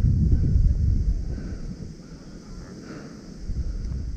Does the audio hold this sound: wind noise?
yes